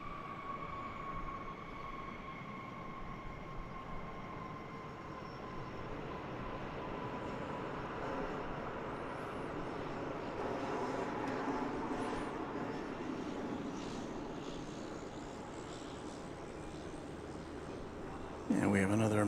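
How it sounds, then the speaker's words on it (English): Airliner inbound from Austin arriving at DFW airport, a broad roaring jet rumble with a faint high whine, swelling gradually and staying moderately distant before a sudden louder burst at the very end. "With a flight from Austin, Texas arriving."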